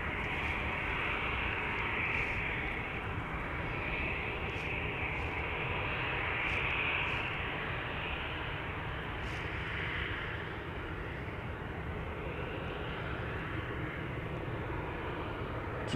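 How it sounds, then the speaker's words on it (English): A Lufthansa Airbus A319 bound for Munich taxis toward the runway threshold, its engines making a low, steady, moderately distant drone that holds for about sixteen seconds without speech. "Lufthansa flight 2303 is making its way over to the threshold of 1 night left. That is an A319 destined to go to Munich"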